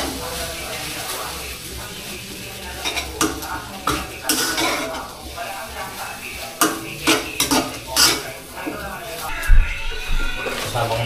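Onions go into a hot pan and are stirred. Metal utensils clatter and scrape in uneven bursts over a light sizzle, with people talking nearby.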